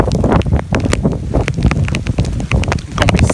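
Strong gusty wind in wet, rainy weather buffets the microphone, loud and continuous with roaring, rumbling bursts.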